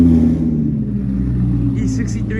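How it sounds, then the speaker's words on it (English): A Lamborghini Huracan supercar engine idles with a deep, loud rumble at close range, holding steady with slight rises, while faint chirps sound in the background. "they started this Huracan up too"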